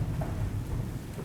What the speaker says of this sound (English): Rain hammered the windshield so hard it sounded like gravel hitting glass.